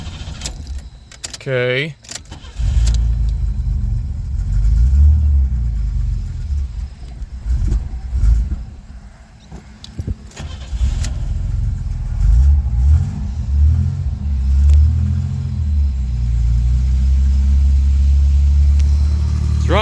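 A 1984 Chevy Citation starts after a rattle of keys and a brief crank, then settles into a steady mid-pitched idle with a few gentle revs, close up, with a single short spoken word early on.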